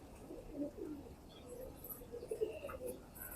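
Soft pigeon coos murmur at low volume, a few gentle rounded calls with faint background noise and no talking.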